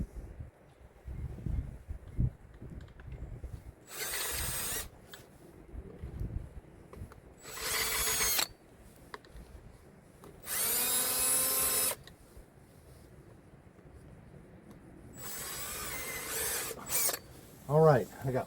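A power drill bores holes outdoors for mounting a garden hose reel, with four loud bursts of high whirring separated by pauses filled with quiet handling and wind noise, and a voice briefly at the end.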